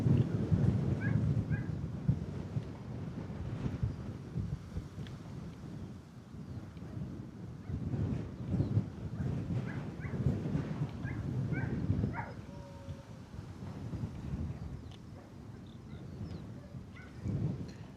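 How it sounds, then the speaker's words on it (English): Dogs barking at kennels beside Bristol Airport, heard as scattered, fairly distant yelps and barks over a steady low rumble of wind and background noise. "Dogs over at the kennels next door are going for it as well."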